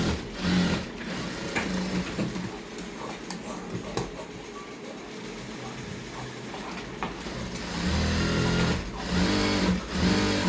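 A sewing machine runs in steady bursts while stitching a dress, its motor whirring loudly near the start and again toward the end, quieter in between.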